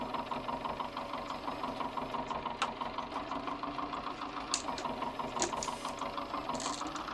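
A 1960s farm tractor engine running steadily on a dairy farm, a close, continuous low throbbing idle with an even mechanical knock and a few faint clanks on top.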